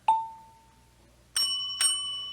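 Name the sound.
store call bell rung by customer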